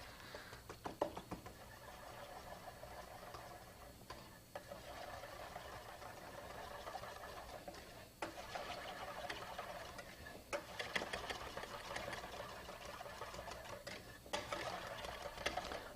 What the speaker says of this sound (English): We're just going to whisk this to bring it together.